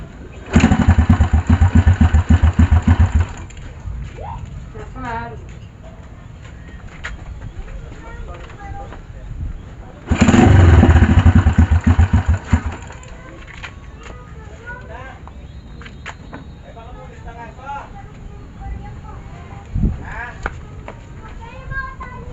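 A motorcycle engine starts twice after a spark plug is fitted, each time running loudly for a few seconds before cutting out. Quieter gaps between the runs hold birds chirping and someone talking.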